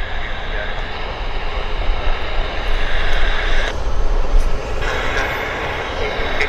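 An airplane rolls along the runway at Vancouver Airport, a steady broad engine roar with a sustained whine, heard at moderate distance under light wind, with a voice speaking over it.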